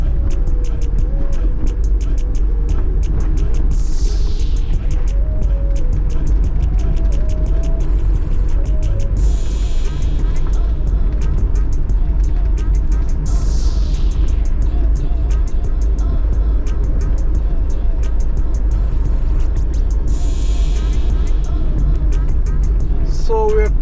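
A car rumbling and jolting along a bumpy rural road in Westmoreland, Jamaica, steady loud engine and road noise throughout, with several rising whines and a person talking over it.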